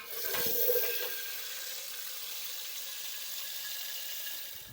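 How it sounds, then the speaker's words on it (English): Water runs steadily into a container, a continuous rushing splash that holds at an even level from start to finish. "I'll fill it up with water in there so it gets all mixed up"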